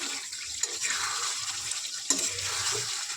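Beef being stir-fried in a kadai (karahi) for a Bengali beef chaap dish, with a loud continuous sizzle and scraping stirs close by, and a couple of sharp metallic knocks.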